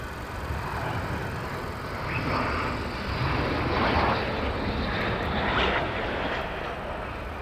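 Fighter jet passing over RAF Lakenheath airbase, a steady broad roar that swells slightly toward the middle as it goes overhead, then holds loud and constant with no talk.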